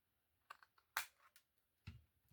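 Paper for 6x6 waterfall journal pages being cut, a few soft, sparse clicks and scrapes with quiet gaps between them, heard close and faint.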